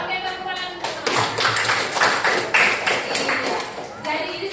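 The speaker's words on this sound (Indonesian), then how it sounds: "tepuk tangan untuk teman-teman" Classmates applaud in a classroom, a few seconds of mixed, uneven clapping with voices talking underneath.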